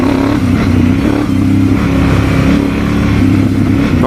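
A Honda CRF1000 Africa Twin motorcycle engine runs loud and close, its rumbling note rising and falling as the throttle is revved.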